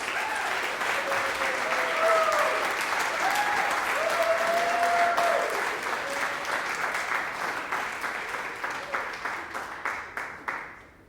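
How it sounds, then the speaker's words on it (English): Concert audience at a college jazz band concert applauding senior students: a broad wash of crowd clapping with faint voices and a whistle or cheer mixed in, later thinning into scattered separate claps that taper off. "So one more round of applause for these great senior students."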